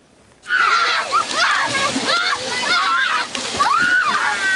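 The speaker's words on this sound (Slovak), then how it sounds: "Nemusia ale chodiť na žiadne kúpalisko, kúpu sa priamo v potoku, ktorý preteká osadou." Children bathing and splashing in a shallow stream running through a village on a hot summer day, with continuous close splashing and sloshing water and children's voices calling out over it.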